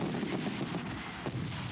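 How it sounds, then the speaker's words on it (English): Fireworks explode during a Mexican patriotic holiday such as Cinco de Mayo or Independence Day, heard as muffled, rumbling bangs and crackle with one sharper burst near the end, fairly quiet against a noisy background. "Fireworks explode on Cinco de Mayo and Dia de Independencia"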